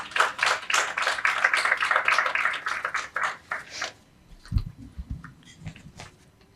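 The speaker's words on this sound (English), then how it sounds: "Let's give them a warm round of applause." An audience applauds the authors of a book at a presentation event, a loud, dense burst of clapping for about four seconds that then drops to a few scattered soft taps and thumps.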